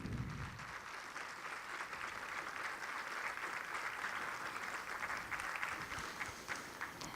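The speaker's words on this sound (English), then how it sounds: "So once again, a round of applause for our candidates." Sustained audience applause at a candidates' meeting, a dense, even wash of many hands clapping from start to finish, fairly close and steady.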